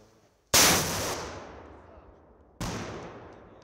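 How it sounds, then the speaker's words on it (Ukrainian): Two sharp, loud gunshots crack during military firearms training, spaced about two seconds apart, each trailing off in a long echoing decay outdoors. "Постріл!"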